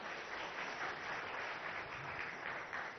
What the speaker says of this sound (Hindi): सबसे पहले जोरदार तालियां होनी चाहिए।